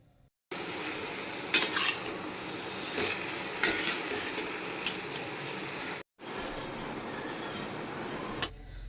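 A spatula scrapes and stirs a mixture of roasted onion and mango blossom in a pan. The rough scraping runs steadily, with a few sharper knocks and one brief pause.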